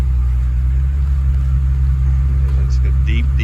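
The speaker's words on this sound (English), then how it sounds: "So we'll get to hear the exhaust a little bit better here." Renntech-built 7.4-liter V12 in a Mercedes R129 SL600 idles with a deep, steady exhaust rumble close by, lifting slightly toward the end as the throttle is blipped.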